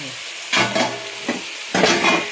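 Tomatoes cooking down in a pan for a brinjal and potato curry, with two bursts of loud sizzling stirring and a brief scrape between them over a low background hiss.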